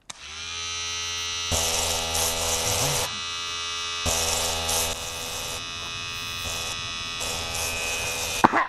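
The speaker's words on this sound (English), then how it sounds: "This is my shaver." An electric shaver buzzes steadily and loudly at close range for the whole stretch, its dense harmonic drone shifting in tone a few times as it is handled or pressed.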